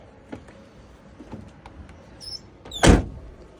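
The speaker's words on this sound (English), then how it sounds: "So what I'm going to do is going to shut this door." The door of an AutoTrail Apache motorhome swings shut with one loud, solid thud near the end, preceded by light clicks and faint handling noises.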